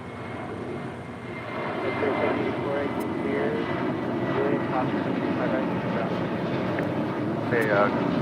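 An American Airlines Boeing 737-800 departs from LAX's south side, its jet engine roar building and holding strong across the span while a voice talks over the noise.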